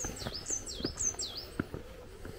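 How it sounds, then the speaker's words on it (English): Songbirds chirping and whistling in Hidcote Manor garden, a series of quick rising and falling calls at moderate distance over soft outdoor background. "You can hear the bird song."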